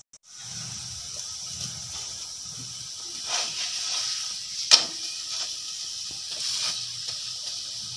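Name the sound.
paratha frying in a pan on low flame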